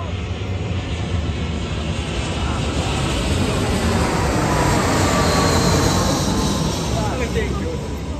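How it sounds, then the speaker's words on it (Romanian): Aircraft passing overhead during a youth football match, a loud, sustained broadband roar that holds steady and swells slightly toward the middle before easing, with voices faintly underneath. "avion."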